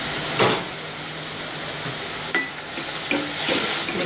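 Fenugreek leaves with salt and turmeric powder stirred in a hot pan, a steady close sizzle and hiss with a few soft scraping strokes of the spoon.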